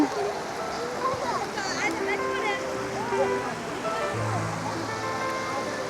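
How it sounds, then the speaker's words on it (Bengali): Water waves rolling in at Akilpur in Chattogram make a steady, fairly loud broadband wash throughout, with someone talking over them. "এগুলো হয়েছে পানির ঢেউ"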